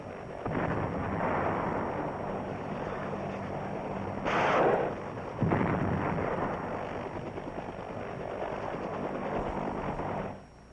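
Rapid helicopter gunfire strafing Viet Cong positions in Vietnam, a continuous daisy-chain barrage of loud, rumbling bursts with one sharper blast partway through and a steady drone beneath.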